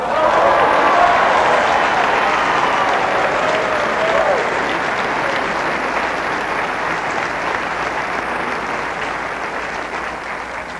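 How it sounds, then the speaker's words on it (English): A church congregation claps during a sermon, broad steady applause from a large crowd that holds on for about ten seconds and slowly tapers off. "Go ahead and clap."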